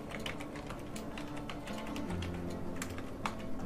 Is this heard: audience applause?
no